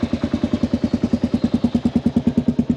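A motorcycle engine idles steadily and loudly near the listener in Malaysia's Central Highlands, its fast, even pulsing thump running the whole time with no voices.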